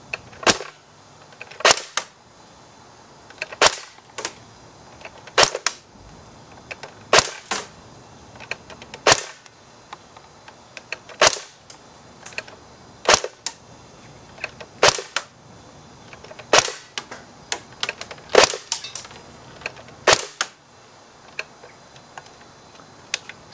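AUG A3 airsoft rifle firing single shots through a chronograph, a steady string of sharp, loud snaps spaced a second or two apart with a few quicker doubles, close up and with no talk.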